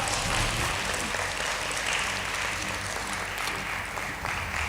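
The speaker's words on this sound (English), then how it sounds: "Let's give them a round of applause." An audience at a high school debate competition applauds steadily, a dense wash of clapping from a crowd that holds level throughout.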